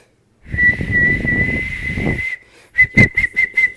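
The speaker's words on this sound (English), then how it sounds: "can you show us how do you whistle?" A person whistles a sustained high note for about two seconds, pauses, then whistles a quick run of short chirpy notes, close and clear.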